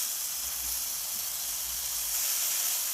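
Beef burger patty sizzling on a hot cooking surface, a steady close hiss of frying fat that holds evenly throughout.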